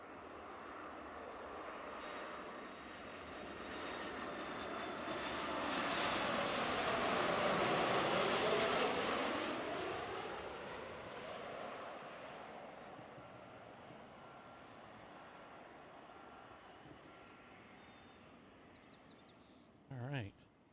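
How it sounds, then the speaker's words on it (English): A Boeing 737 MAX 8 airliner passes at an airport, its engine roar swelling from distant to loud overhead then fading away over about twenty seconds, with a brief knock near the end. "So this is a 737 MAX 8."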